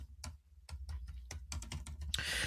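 Close, quiet typing on a computer keyboard, with irregular bursts of sharp key clicks and taps, plus a denser rattle of keystrokes near the end.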